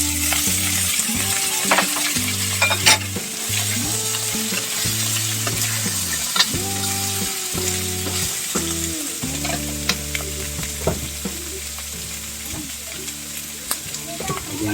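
Chicken sizzles steadily in a hot pan, a continuous crackling fry with occasional stirring scrapes and clinks, and no voices.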